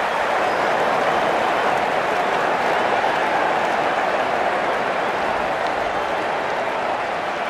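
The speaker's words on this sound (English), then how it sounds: "It's going to be hard for the bowler to focus with the crowd this excited." Dense crowd noise fills a cricket stadium during the India vs South Africa World Cup ODI final, a loud continuous roar of cheering and clapping that holds steady throughout.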